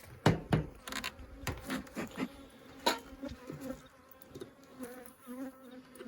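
Bees buzz in and around a beehive at a ranch late in the season, with close passing drones and intermittent thumps over a faint, continuous hum.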